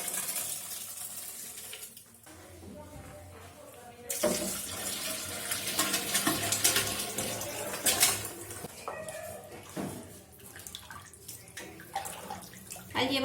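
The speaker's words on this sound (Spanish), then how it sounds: "Ahora voy a vaciar el contenido de las 2 ollas en una más grande" Pozole rojo with pork and precooked hominy being poured from two pots into a larger pot, a splashing, gurgling liquid pour that swells and fades in bursts, close and fairly loud.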